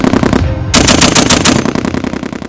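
Machine gun firing in rapid loud bursts close by, a brief pause then a sustained rattling volley of evenly spaced shots.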